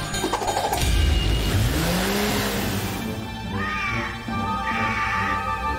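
Cartoon cat meows in an animated children's vehicle rescue show, a few rising and falling yowls over busy background music and effects, moderately loud and clear.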